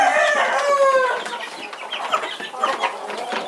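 Young chicks cluck and peep busily while eating feed, bright repeated calls close by and loud at first, then a denser flurry of softer chirps and clucks.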